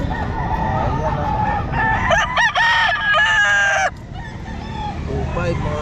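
A rooster crows loudly and close by at the Calumpit pet market, one long drawn-out call rising and wavering amid background market chatter and other birds.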